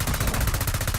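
Video game automatic gunfire from Ark or Call of Duty rattles in a rapid, evenly spaced burst, loud and close, with no talking over it.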